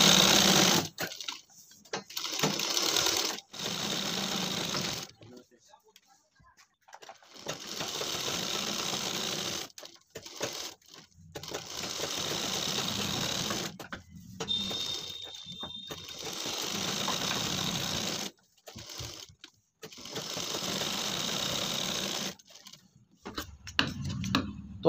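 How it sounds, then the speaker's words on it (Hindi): A sewing machine stitches cloth pieces for homemade slippers, running in several bursts of steady whirring with short pauses between them, close and clear with no talking. "तो हमने यहाँ पर सिलाइयाँ लगा ली हैं।"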